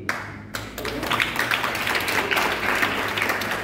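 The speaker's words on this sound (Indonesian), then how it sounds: "kasih tepuk tangan yang banyak sekali lagi buat beliau-beliau" Audience applause for the honoured guests at a podcast night in an Indonesian Islamic boarding school, starting after a brief pause as dense, steady clapping from a hall crowd that holds at full strength throughout.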